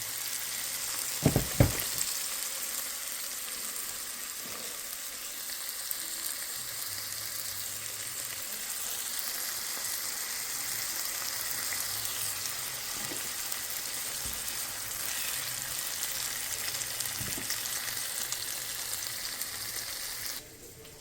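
Onion fries with salt in a pan, a steady close sizzle running for about twenty seconds with a couple of sharp utensil knocks near the start, no voices.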